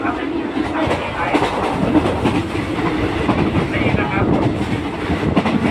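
A Thai passenger excursion train, number 921, rumbles loudly along the rails, a continuous clatter of wheels and carriage noise close by with a voice faintly underneath.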